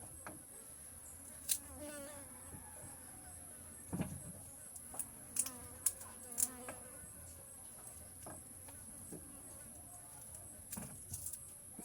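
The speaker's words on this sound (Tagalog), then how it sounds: "Kalalangot sing mga langaw." Houseflies buzz around food in a home kitchen, a thin continuous drone close by, broken by scattered clicks and knocks, with muffled talk in the background.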